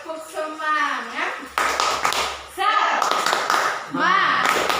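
Rhythmic 'tepuk semangat' spirit clapping in an elementary school science lesson in Yogyakarta, with bursts of hand claps alternating with a voice chanting along.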